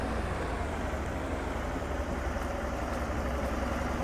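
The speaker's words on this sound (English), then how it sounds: "that's his new tractor. It's white and a real nice one" A new white tractor engine idles steadily at close range, a continuous low rumble that holds even for the whole stretch with no one speaking.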